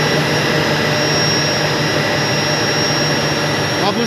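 A 1300 TR industrial chiller in surge gives off a loud, continuous roaring whoosh with a steady high whine, unbroken and close throughout.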